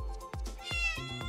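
Video-game cat in Animal Shelter Simulator meowing in a quick series of short, tonal, close meows, clear and fairly loud with no talking over them.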